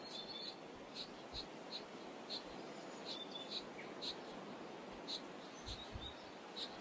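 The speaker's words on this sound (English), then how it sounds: "can you hear these loud ass birds? They don't stop fucking chirping." High, bright chirps repeat steadily over a constant hiss of outdoor ambience, with no voices.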